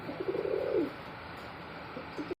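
A Danish pigeon of Pakistani bloodline, black with red eyes, gives a close, soft rolling coo, followed by a fainter short coo after a pause.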